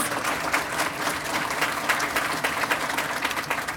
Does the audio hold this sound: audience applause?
yes